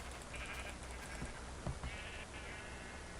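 Sheep in the Minecraft video game bleat a few times, two wavering cries standing out over a dense, steady background wash.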